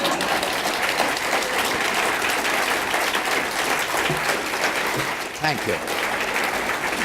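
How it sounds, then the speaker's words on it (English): Conference audience applauding, a dense, steady wash of clapping from a large crowd that lasts several seconds, with a voice speaking briefly over it. "before that, a big round of applause"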